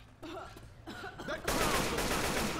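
Online video game gunfire, starting as faint scattered shots under brief talk before a dense, loud burst of sustained firing fills the last second.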